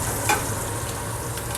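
Food sautés in a hot pan with its fat, a steady close sizzle and crackle, with a light stir or scrape near the start.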